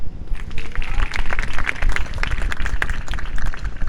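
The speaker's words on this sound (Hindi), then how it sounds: "ताली बजाइए।" A church congregation in Chhattisgarh claps hands together in a steady, loud, sustained round of applause, many hands near and far blending into a continuous patter.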